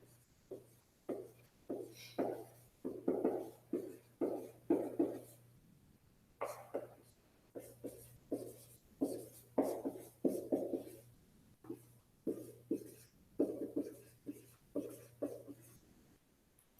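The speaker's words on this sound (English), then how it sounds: "let's write those up here." Strokes of writing on a classroom board during a biology genetics lesson, a run of short scratchy bursts in quick rhythmic groups with brief pauses, moderately close, over a steady low electrical hum.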